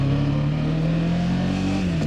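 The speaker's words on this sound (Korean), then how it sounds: "기어 들어가는 소리도 꽤 큽니다" A CF Moto 700MT adventure motorcycle with a 693cc parallel-twin DOHC engine pulls away after being put in gear, its engine rumbling loudly and steadily with a slight rise in pitch as it sets off, close and alone.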